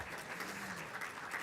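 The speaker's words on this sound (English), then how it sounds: "give you a quick round of applause to the folks from VACRA" A brief, fairly quiet round of applause from a seated audience at a community event, a soft wash of scattered clapping with a faint voice murmuring underneath.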